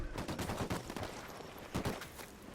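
Rapid rifle fire in the video game Ghost Recon Wildlands, several sharp shots in quick succession at moderate loudness with no talking.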